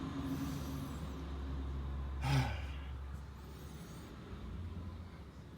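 A truck rolls past on a busy main road, a low steady rumble swelling to a brief peak and fading, with traffic droning on behind it and no talk.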